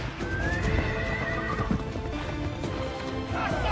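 Released horses in an action film gallop and neigh, with loud clip-clop hoofbeats under a sustained whinny, close and dense throughout a short, busy burst.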